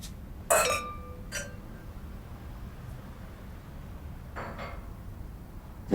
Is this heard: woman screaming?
no